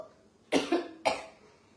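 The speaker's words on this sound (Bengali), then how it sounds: "খুব কাশি হচ্ছে যে কাশিকে আমি থামাতে পারছি না" A person coughs twice in quick succession, close and fairly sharp, with a short fading rasp after each cough and quiet in between.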